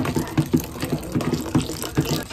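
Tap water pouring and splashing into a container while mixing homemade dishwashing liquid, a steady gushing fill with irregular splashes, close and moderately loud, no talk.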